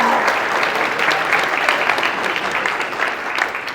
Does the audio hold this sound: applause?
yes